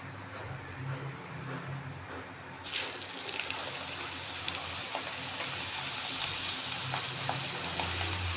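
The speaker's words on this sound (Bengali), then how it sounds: "সব চিপসগুলোকেই আমি এভাবে করে ভেজে তুলে নেব।" Thin slices of medium-sized potato frying in hot oil for chips, a steady bubbling sizzle that swells louder partway through as more slices go in, close and continuous.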